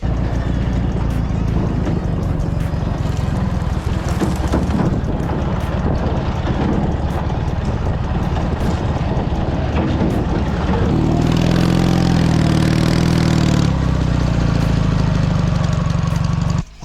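An off-road cross motorcycle rides downhill along a forest trail, its engine droning steadily and loudly throughout, with heavy wind buffeting the microphone and a shift to a higher, rougher engine tone near the end.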